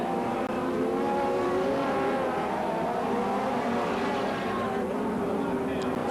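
USAC midget race cars roar continuously around the Las Vegas track, a loud, sustained engine drone rising and falling in pitch as they pass, with an announcer's commentary over it.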